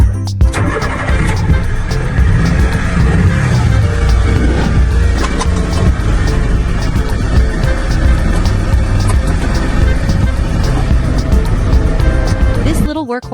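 A 1999 Mitsubishi Mini Cab truck with a gasoline engine, 4-wheel drive and a 5-speed manual runs loudly and continuously nearby, its engine noise carrying beneath steady narration for most of the stretch.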